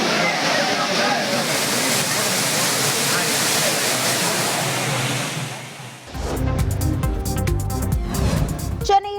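Courtallam's main waterfall roars as a dense, steady rush of falling water for about six seconds, then cuts abruptly to busier mixed sounds, with a voice speaking over it.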